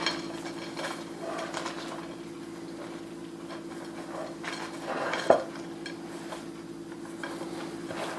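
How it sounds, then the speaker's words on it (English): Homemade stuffing dressing seasoned with cracked pepper and stirred in a pan, producing soft scraping and light clinks of a utensil against the pan over a low steady hum, with one sharper knock partway through. "You stir it up."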